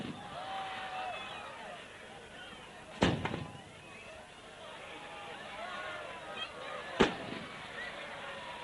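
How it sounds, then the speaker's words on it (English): Fireworks display with two sharp, loud bangs about four seconds apart, each trailing off in crackle, over a background of crowd murmur and voices. "Certainly some real works of art in putting these fireworks together, making them do all the right things."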